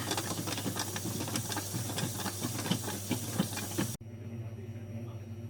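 Steady hissing mechanical hum of a kitchen machine running at 45 degrees while making chocolate mousse, continuous and fairly close, with a brief cut near the end before the drone resumes more quietly.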